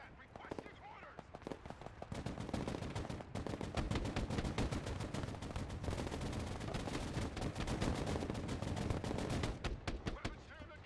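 Battle gunfire in the strategy game Broken Arrow, rapid machine-gun bursts and scattered heavier shots rattling on and on at moderate distance, with radio-style voices over the combat.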